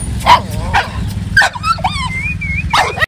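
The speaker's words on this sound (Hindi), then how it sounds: "यहाँ पे ये हमको भौंक रहा है" A pitbull barks at children hiding in a hillside village, giving several sharp close barks mixed with whimpering yips over steady background noise.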